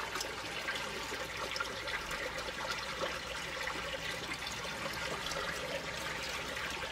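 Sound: water in a pool, from the video game Unavowed

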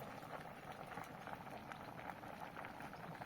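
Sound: wheat boiling in a pot

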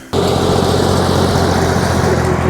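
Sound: tractor engine heard while riding electric scooter

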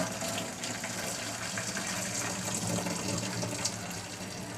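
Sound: boiled water being poured off

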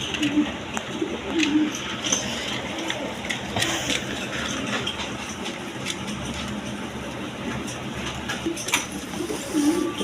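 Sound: Indian Kaldom pigeons cooing

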